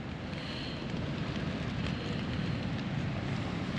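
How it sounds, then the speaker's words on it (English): Rain and strong wind beat on a tent during a storm, a dense, steady rushing patter with gusting noise and low rumble against the fabric, close and unbroken, with no voices. "How much I'm going to get with this noise and this wind and rain"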